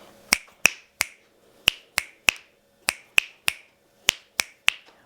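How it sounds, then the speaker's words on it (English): Crisp, close finger snaps in a steady rhythm, about a dozen sharp clicks grouped in quick pairs and triples with short pauses between. "You can snap 2 fingers at once, or you could snap back and forth."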